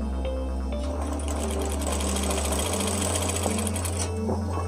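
A sewing machine runs close up stitching a gamis dress, a fast steady mechanical whir of needle strokes that shifts speed partway through, with no voices.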